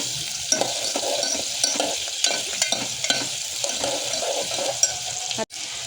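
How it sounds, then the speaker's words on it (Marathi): Onion, garlic and curry leaves fry in oil, a steady loud sizzle running throughout while a spoon stirs and scrapes, with a few light clinks against the pan. "तर ह्याच्यात तेलामध्ये आपल्याला कांदा, लसूण आणि कढीपत्ता टाकायचा आहे. त्याला मस्त 2 मिनटं परतून घ्यायचं आहे"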